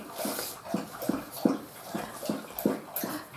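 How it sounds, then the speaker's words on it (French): A pet dog laps water from a bowl close by, in a steady rhythm of wet slurps spaced about a third of a second apart, with no talking. "J'attends que mon chien finisse de boire."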